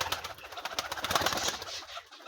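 A young pigeon chick makes quick, soft cooing and chirping sounds close by, in a rapid fluttering series with a short pause near the end.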